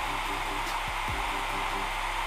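A budget Philips or Nova hair dryer blower runs on its first setting, giving a loud, steady rushing whoosh of forced air with a constant motor hum throughout.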